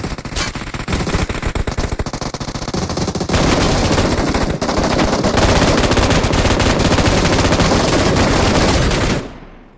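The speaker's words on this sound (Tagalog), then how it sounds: "Saan yung bumabaril sa akin?" Rapid automatic gunfire in the mobile battle royale game PUBG Mobile, loud dense bursts of shots rattling continuously for several seconds before abruptly stopping.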